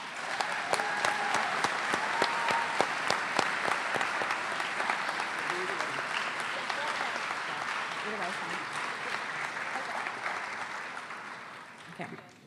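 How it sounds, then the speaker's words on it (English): Audience at a school awards ceremony applauding award-winning students: sustained, brisk clapping from many people at a strong, steady level for about ten seconds, tapering off near the end, with faint voices underneath. "let's go ahead and give these students a round of applause"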